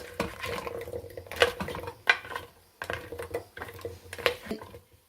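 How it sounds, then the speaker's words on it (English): Meatballs are tossed in sauce in a crockpot, giving close, irregular clinks and scrapes of a utensil against the pot with wet, sticky stirring sounds between them. "Toss them and coat them in that sauce."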